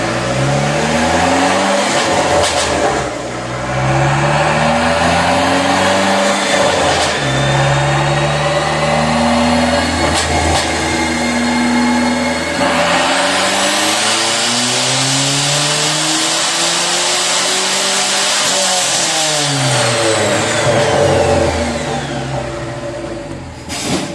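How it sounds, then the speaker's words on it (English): A turbocharged 2.4-litre PT Cruiser engine, muffler removed, revs hard on a dyno through repeated rising pulls, loud and close, with a high turbo whine climbing near the end before it backs off. "So let's get into making a dyno pool"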